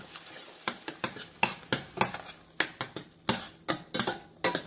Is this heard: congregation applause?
no